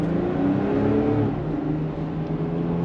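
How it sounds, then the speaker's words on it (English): Ineos Grenadier SUV pulling away from a traffic light, its engine a moderate, steady rising hum heard from inside the cabin, easing off slightly toward the end. "pulling away from the light."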